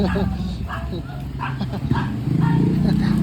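A small dog yips and barks in short bursts, mixed with people talking nearby.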